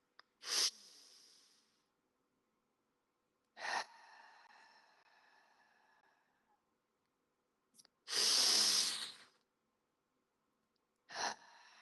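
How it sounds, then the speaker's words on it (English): A person takes slow, deep breaths during a guided new-moon meditation circle. Several long, soft exhalations are separated by quiet pauses, each opening with a sharper breathy onset. "Deep breath in, slower, longer, deeper breath out."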